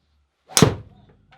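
A single sharp crack of a golf club striking the ball on a tee shot, measured by Trackman and a speed radar, up close and alone, fading quickly into near silence.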